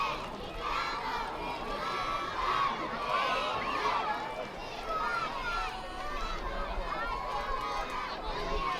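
Crowd cheering at a high school football game between the Guthrie Bluejays and Blanchard Lions, a continuous distant roar of voices and shouts with no single voice standing out.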